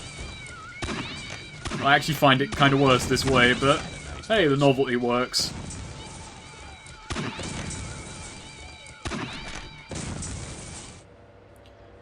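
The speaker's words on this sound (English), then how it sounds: "The grenade launcher now shoots bouncy exploding cats." Bouncy exploding cats fired from a grenade launcher in the game Postal 2, with wavering meows and yowls clustered in the first half amid thuds and crashes, while someone talks over them.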